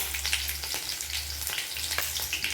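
Mustard seeds, chilli flakes and chopped green chilli sizzle in hot oil, a steady close crackle with small popping bursts throughout.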